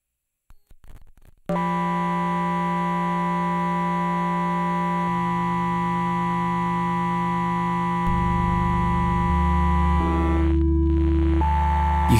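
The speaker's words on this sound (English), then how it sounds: "You can get this really beautiful, sputtery distortion sound" A sustained, buzzy synthesized drone with gritty, sputtering distortion from sample rate reduction, its pitch and texture shifting in steps, loud and alone without any talk.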